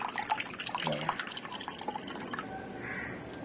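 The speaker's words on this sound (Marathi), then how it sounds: "आता ही ज्वारी मी चांगली अशी 2 ते 3 पाण्याने चांगली धुणार आहे व चोळून अशी चांगली धुवायची" Jowar sorghum grains are rubbed and rinsed in water, giving close wet sloshing, swishing and dripping sounds with small splashes, loud and busy throughout with no talking.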